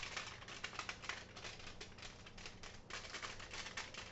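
Permanent marker scratching across aluminium foil while labeling a turkey pot pie for the freezer, a quiet, close, continuous raspy squeak with quick irregular stroke pulses and no talk.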